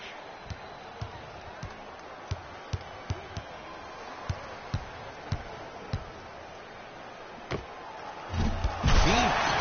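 A slam dunk in the NBA Live 19 All-Star Game video game: a string of sharp sneaker squeaks and ball thuds on the court, followed by a louder crashing slam near the end with swelling crowd noise.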